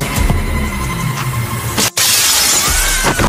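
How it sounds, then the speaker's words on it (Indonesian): A glass window shatters with a sharp crash, followed by a bright, sustained spray of breaking shards and settling debris over a low, rumbling background. "Tiba-tiba sosok bertopeng datang memecahkan jendela kaca."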